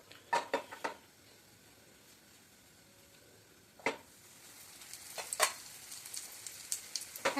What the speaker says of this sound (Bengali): এবার আমি পরোটাগুলো একটা একটা করে ভাজবো।